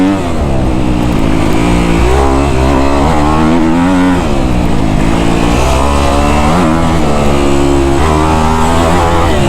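A Kawasaki KX250F dirt bike engine revs hard and close, a loud, sustained high-pitched wail that rises and falls steadily throughout, with no voices.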